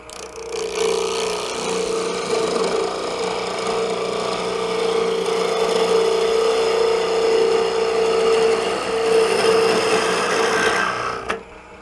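A wood lathe turning a bird's mouth bowl at around 900 RPM, a loud continuous hum with rough scraping of the tool against the spinning wood, steady throughout before cutting off abruptly at the end.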